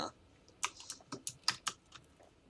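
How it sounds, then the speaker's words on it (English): Sharp keystrokes on a mechanical keyboard with clicky switches tap out in an uneven burst, crisp and close, with no talking. "apologies if the clickety-clackety of the keyboard is a little loud"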